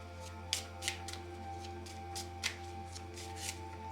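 Wisdom Chakra oracle cards shuffled by hand, soft papery swishes recurring every half second or so, faint and close over a steady low electrical hum.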